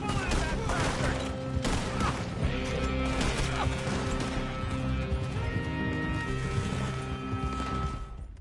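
Gunfire crackles through a busy Red Dead Redemption 2 shootout, dense overlapping shots and impacts forming a continuous loud din over music and horses, with shouting voices mixed in.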